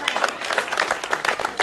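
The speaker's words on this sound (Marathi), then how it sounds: "पुढच्या इयत्ता तिसरी टाळ्या वाजवा, टाळ्या वाजवा." Audience clapping at a Diwali celebration and prize-giving in Borivali East, a dense, steady patter of many hands throughout, fairly close and even in level.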